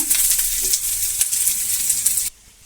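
Onions and chopped green chillies sizzle in hot oil in a pan, a dense, steady crackling hiss that runs loud and close before cutting off abruptly near the end.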